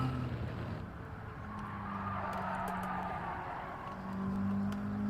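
A race car engine in Gran Turismo 7 hums at a low, steady drone with rising and falling pitch as it revs, fairly quiet and without talk.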